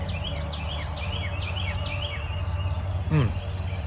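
Birds singing outdoors in open country, a run of repeated chirps and short descending whistles sounding through a steady background hum, with a louder call near the end.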